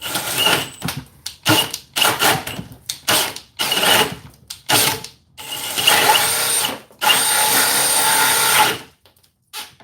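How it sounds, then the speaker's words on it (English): A cordless drill revs in short repeated bursts, then runs longer as it bores into material, bogging and whining; loud and close, with no speech. "We're going to kind of throttle it like I want to do because I know how to drill a hole"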